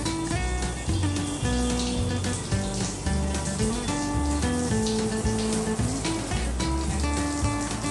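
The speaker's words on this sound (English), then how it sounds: "Almond loves bathing in the shower." Shower water pours steadily while a golden retriever is bathed, a continuous hiss and splash of running water over a bathroom floor, with a tonal musical layer playing throughout.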